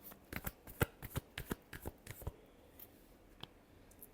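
Tarot cards being shuffled close up, a quick series of crisp riffling slaps over about two seconds followed by a faint card tap, quiet and without talk.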